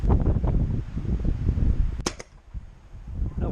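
A single sharp, loud crack from a high-pressure-air Nerf blaster firing a dart outdoors in the wind, standing out over a rumbling windy background that briefly quiets afterward.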